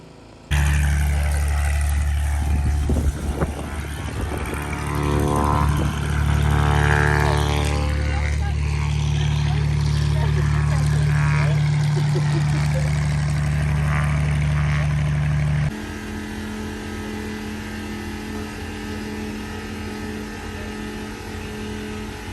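Small airplane engine and propeller droning steadily in flight toward the mountains of Idaho, a loud, continuous hum that drops to a lower, steadier tone partway through, with voices heard over it.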